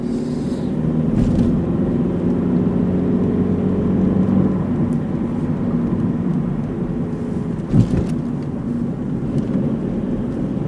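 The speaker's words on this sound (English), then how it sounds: "Come on, car, you can do it. With your 16 valves and your overhead cams" A generic 16-valve overhead-cam small family car engine labouring uphill on a road between Langholm and Newcastleton, a steady droning hum with a low whirring tone heard from inside the car, and a brief knock near the end.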